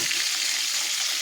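Freshly caught fish frying in a pan, a steady bright hiss and crackle of hot oil, close and continuous with no talk.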